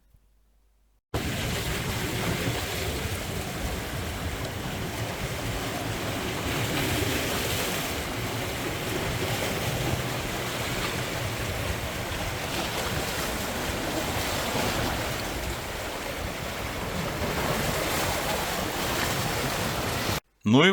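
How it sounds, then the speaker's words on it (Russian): Sea surf washing steadily against rocky shore on the Albanian coast, a continuous broadband roar with wind noise, fairly loud and unbroken for about twenty seconds, no voices. "спокойно послушать шум моря на скалах"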